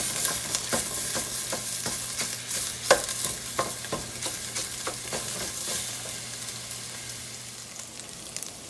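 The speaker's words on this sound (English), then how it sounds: "we've got our sausage all cooked down and crumbled up nicely here" Italian sausage frying in a pot, a steady sizzle broken by a string of sharp scraping taps as a utensil crumbles the meat, with no talking.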